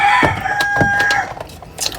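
A rooster crows loudly and close by, a long wavering call lasting over a second, followed by a brief rustle and a faint bird sound.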